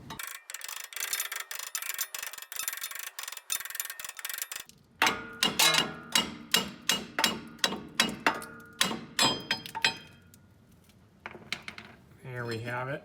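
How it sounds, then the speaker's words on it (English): A hammer taps repeatedly on a stuck strut damper of a 2002 Acura TL-S, giving sharp metallic knocks in a fast rapid series and then slower spaced blows, with a pause and a short voice near the end. "I'm just gonna try tapping it with a hammer, and it should hopefully just drop straight down and out"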